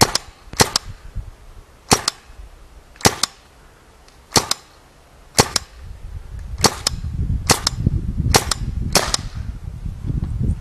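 A RAP4 T68 M4 paintball gun fires about ten sharp, well-spaced shots, each one a crisp pop with a quick tail. A low rumbling background noise rises over the final few seconds.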